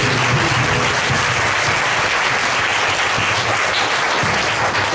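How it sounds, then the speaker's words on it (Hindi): A church congregation claps loudly and continuously, dense and close throughout. "आप यहाँ पर हैं तो ताली बजाओ जोरदार।"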